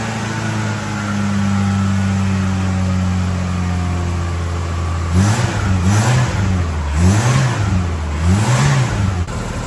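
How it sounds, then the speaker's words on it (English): A Grumman LLV postal truck's Iron Duke four-cylinder engine with an exhaust leak runs close by: a steady idle at first, then several quick throttle blips rise and fall in a wavering rhythm over the second half. "I do hear an exhaust leak, so that's not ideal."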